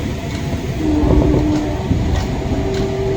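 A KRL commuter train rolls into Nambo station, a loud, steady low rumble heard from inside the carriage, with a faint rising whine of slowing motors and light rattling.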